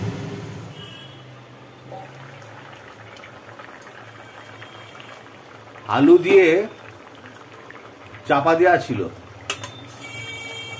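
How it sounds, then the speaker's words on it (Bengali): A pot of Bengali curry simmers at a steady, quiet bubble on the stove. A person talks briefly twice over it, and the bubbling carries on in the background. "বকবক করে ফুটছে"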